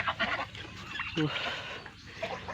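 Ducks on a household farm call at feeding time with a few short, nasal honking quacks, heard under and between a person's talking.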